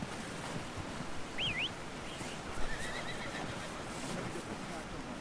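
A horse in Red Dead Redemption 2 whinnies twice over a steady wash of ambient game noise, with faint hoofbeats and someone speaking under it.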